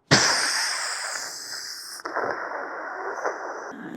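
A human voice mimics a pressure cooker whistle, a loud, sustained hissing shriek that breaks off sharply after about two seconds and resumes as a steadier, slightly quieter hiss.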